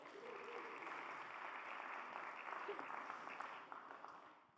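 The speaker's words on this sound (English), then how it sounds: "Give yourself an amazing round of applause." Audience applause closing a TEDx session, a steady, dense wash of clapping that holds fairly level for several seconds and eases slightly toward the end.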